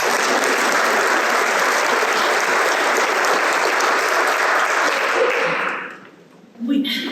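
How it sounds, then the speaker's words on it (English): An audience at a Toyota 4T Academy event in Blue Springs, Mississippi applauds the panelists, a loud, dense roar of clapping that holds steady, then fades near the end before a voice briefly speaks. "One more round of applause."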